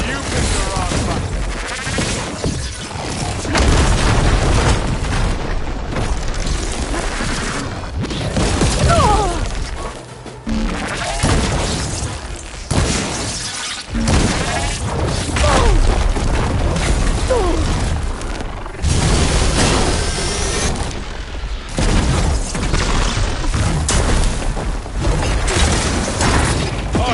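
Gunfire and explosions sound through a battle in Horizon Forbidden West, with dense crashes, booms and mechanical clatter filling the scene almost without pause, loud and close, while voices call out now and then.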